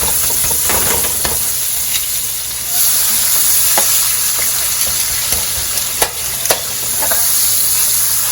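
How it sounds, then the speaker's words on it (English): Bacon grease crackles and sizzles steadily in a skillet over medium heat, with occasional stirring scrapes and sharp pops, close and fairly loud with no talking. "make sure that your skillet is on medium heat so that that bacon grease does not burn"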